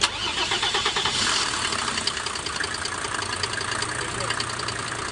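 Mercedes 603 diesel engine cranking and catching at once, then settling into a steady, rough, clattering idle close by.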